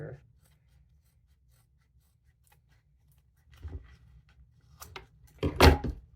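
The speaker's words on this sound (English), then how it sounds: "Cut off the seam" A blade cuts the seam off an old leather wallet: near-silence at first, then a few close, soft scraping cuts and rubs that end in a sharper, louder slice, with no voice.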